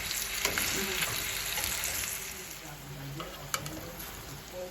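Plantains fry in a pan of hot oil with dense, loud, continuous sizzling and crackling up close, and a few brief clinks of a utensil against the pan.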